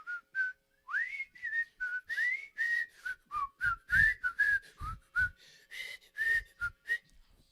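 A person whistles a TV theme song alone, a clear, bright tune of short gliding notes in a bouncy, steady rhythm, close and fairly loud with brief gaps between phrases.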